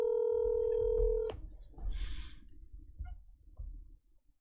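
A telephone dials out to place a call: a steady dial tone runs for over a second, then cuts off into a click and brief tones and line noise, fairly faint and with no one speaking.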